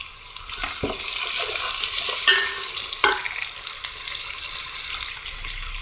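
Capsicum and ground pepper are stirred in a hot pan for biryani, with a steady sizzle and frying crackle broken by a few scraping stirs.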